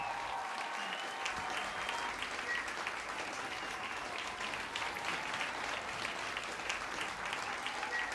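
A studio audience on a TV singing show claps continuously, a dense and even wash of applause that holds steady for the whole stretch with no voices over it.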